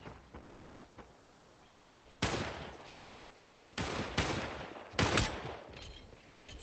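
Short bursts of gunfire in the Population One VR battle-royale game, sharp loud cracks clustered in three or four rapid volleys over a faint background of distant shots.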